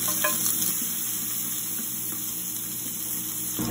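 Chopped garlic and ginger fry steadily in a hot pan with a continuous close sizzle, with occasional stirring scrapes and no talk.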